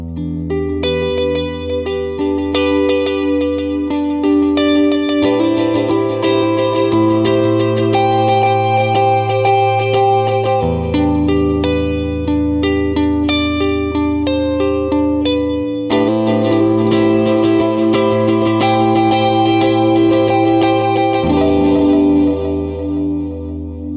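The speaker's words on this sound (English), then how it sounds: "So Steve, this next patch, we've actually got a dual delay, and we've got the expression pedal set up so that we can control the volume of the echoes" An electric guitar runs through a BOSS MS-3 multi-effects switcher on a dual delay patch, with an expression pedal setting the echo volume. Sustained chords and notes trail off in repeating echoes, loud and continuous, with no speech.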